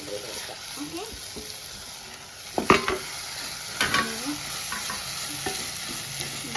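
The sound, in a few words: prawns frying and being stirred in a pan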